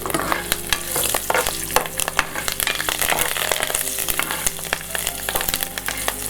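Dry Byadagi chillies and curry leaves sizzle and crackle in hot oil for a tempering, a steady dense frying hiss with frequent sharp pops and stirring scrapes, close and continuous with no talk.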